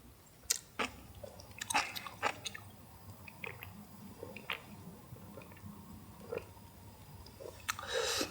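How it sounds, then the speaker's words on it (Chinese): Someone chews white beans outdoors at night during a cycling trip in Inner Mongolia, with scattered soft close-up bites and squishy mouth sounds against a quiet, breezy background. "这个白豆啊，吃起来非常的扎实啊"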